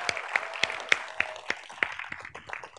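Scattered applause from a conference audience, a handful of distinct claps over a soft crowd wash, moderately distant and fading out after a few seconds.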